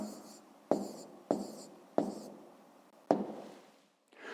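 Pen strokes on paper while writing down an answer, four distinct close taps each followed by a short scratchy drag in a steady rhythm, then a brief softer rustle at the end, with no talking.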